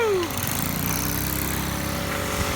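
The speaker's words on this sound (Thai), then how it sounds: "เครื่องตัดหญ้าในเครื่องสูบน้ำตรง นั้น" Continuous buzzing drone of a small Honda GX50 lawn mower engine driving a water pump, running steadily at high revs, loud and close.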